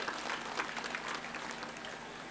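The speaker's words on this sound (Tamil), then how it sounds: "நல்ல ஒரு கைத்தட்டு கொடுங்க சார், பின்னிட்டாங்க" A dense, steady burst of audience clapping fills a hall at an event for a children's performance, sustained and even for a couple of seconds without talk.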